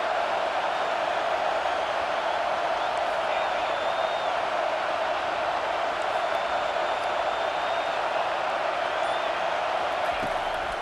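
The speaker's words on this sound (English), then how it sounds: "This crowd is trying to inspire this defense to make a big red zone stop." Simulated stadium crowd in an EA Sports College Football 25 Michigan game, urging the defense in a red zone stand: a steady, dense roar holding at an even level throughout, with no clear peaks or breaks.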